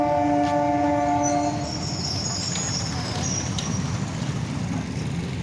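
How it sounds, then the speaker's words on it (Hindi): Train passing in front on a hot day near a road, a loud rumbling roll with a brief tonal horn blast at the start, insects chirping faintly behind. "सामने से हमारी जा रही है ट्रेन।"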